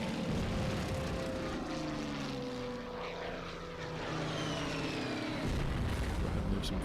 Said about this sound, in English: Let's use some tactical bombers against the Japanese.